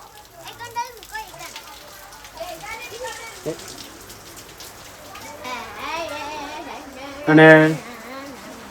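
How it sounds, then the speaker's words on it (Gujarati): Rain falls steadily in a street in Patan, a soft continuous patter heard beneath people talking and children's voices, with a brief louder clatter near the end. "આ વરસાદ કેવો પડે"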